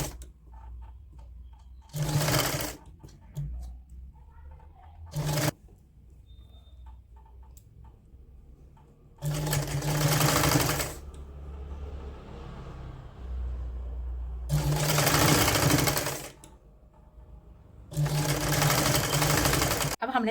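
A sewing machine stitches a woollen kurti in four loud, steady bursts of a few seconds each, separated by short pauses with quieter handling noise and a speaking voice.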